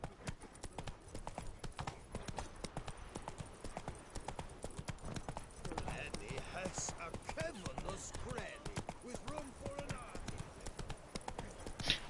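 Roach the horse's hooves clip-clop steadily across the ground in The Witcher 3, a quick even rhythm of hoof beats heard close, with someone talking over part of it.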